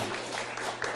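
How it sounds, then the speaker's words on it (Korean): A church congregation at a Sunday service claps in a brief, faint burst of applause. The clapping is heard from a distance against a steady low hum. "이럴 때 박수 한번 치는 거예요"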